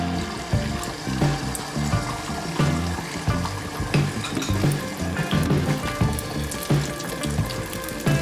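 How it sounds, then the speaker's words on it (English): Beaten egg hits hot cooking oil in a wok with a loud, bubbling sizzle that keeps crackling and spitting steadily, close up. "pour in the egg liquid"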